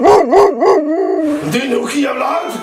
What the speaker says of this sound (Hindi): ये तो कटखने कुत्ते की आवाज है।